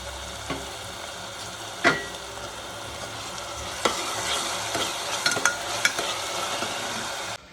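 Onion and tomato frying in a pan for Khandeshi masala khichdi, a steady close sizzle with scattered clinks of a spoon stirring against the pan.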